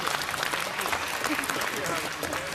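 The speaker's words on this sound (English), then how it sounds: "Getting a round of applause for my thoughts." Audience applause at a live podcast event, a steady wash of clapping from a crowd that runs throughout at moderate level, with no voices standing out.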